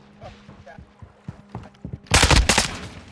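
Rapid automatic gunfire from the Call of Duty: Modern Warfare II video game, with scattered lighter shots early on, then a loud, dense burst of firing near the end.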